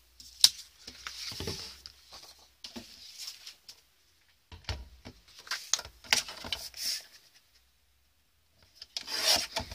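Paper for a Christmas card mini album being cut with a trimmer, several short rasping slides in bursts separated by quiet gaps, close and moderately loud, with light handling taps between cuts.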